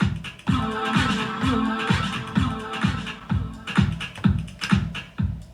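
A thumping dance beat run through a flanger, giving a whooshing, jet-like metallic sweep over the steady kick pattern.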